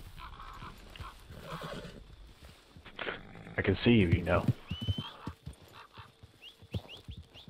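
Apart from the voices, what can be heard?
horse whinnying in video game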